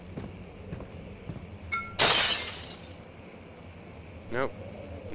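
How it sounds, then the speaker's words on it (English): Glass smashes in the video game Amnesia: The Dark Descent, a single loud, bright shatter with scattering fragments, surrounded by quieter thuds, with a voice talking around it. "let's smash some glass"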